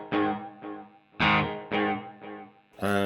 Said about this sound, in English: Okay, and then here's the delay.